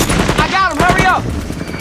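Rapid gunfire crackles through a close-range firefight in combat, bursts overlapping loud shouting voices.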